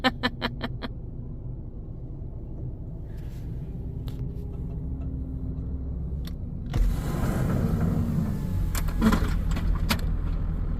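A truck engine idles low and steady in an open hay field on a chicken farm, then grows louder and rougher as the vehicle rolls up close, with a brief metallic jangle at the start.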